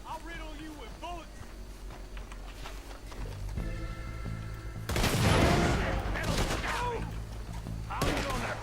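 Gunfire in Red Dead Redemption 2 comes in dense bursts of shots that build into a loud volley midway, mixed with game music and overlapping voices.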